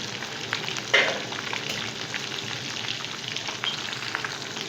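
Lahori masala fish pieces frying in hot oil give a dense, even crackling sizzle close up, with one brief clatter early on and no talking.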